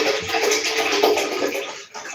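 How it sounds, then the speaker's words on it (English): Mineral water pours into a kettle in a steady, close, splashing rush that keeps going almost throughout and eases briefly just before the end, with no talking over it. "Filling the kettle with freaking mineral water because I can't stand the scale"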